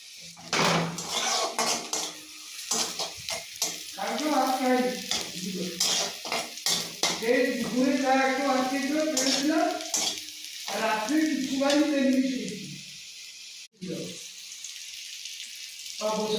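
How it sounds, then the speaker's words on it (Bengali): Onions and lentil dumplings (bori) fry in a pan with a soft, constant sizzle and occasional utensil clatter, largely under a person talking. "এই যে সব পেঁয়াজ আর বড়ি আরও দিয়ে এই যে ভেজে নিয়েছি ভালো করে।"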